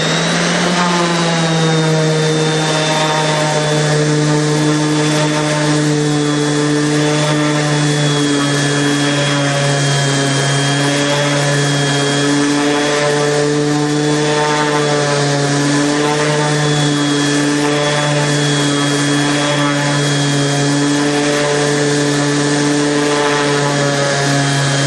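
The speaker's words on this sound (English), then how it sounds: "could you go ahead and take the whole thing down to a smooth edge with the Random Orbital?" Random orbital sander running on wood, working an edge smooth, a loud, steady whirring drone with a constant motor whine and slight pulsing, close and continuous, no talk.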